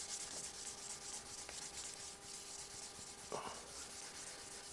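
Polish being rubbed into the fingerboard of a Fender Stratocaster with a cloth, a faint steady hiss of rubbing strokes with a few light taps, close and quiet, with no voices.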